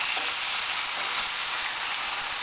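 Pork pieces frying in a pan, a close, even sizzle and hiss that runs unbroken, with no talking.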